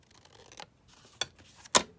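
Scissors snipping decorative banner pieces off paper for a junk journal folio, with three quick, close, crisp cuts, the last the loudest, in a quiet room.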